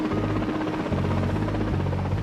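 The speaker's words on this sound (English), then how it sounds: "a rescue helicopter winches up 14 of the survivors and flies them back" Rescue helicopter lifting survivors from the Grampian Freedom vessel: a steady, loud rotor drone with continuous low throbbing and broad engine noise, heard alone without voices.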